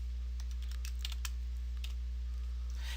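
Rapid, light keystrokes on a computer keyboard while C# code is typed, irregular clusters of clicks close up over a steady low hum, with no talking.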